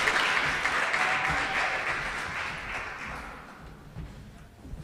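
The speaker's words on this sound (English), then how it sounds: "let's clap it up as he comes" An awards evening audience applauds as a presenter comes forward, a dense, steady wash of clapping that fades gradually toward the end, with a few louder claps near the close.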